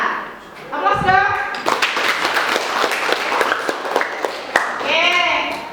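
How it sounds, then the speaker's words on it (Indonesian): Students clap in a classroom, a burst of dense applause from many hands filling several seconds, with children's voices and a teacher speaking over and around it. "Aplaus dong."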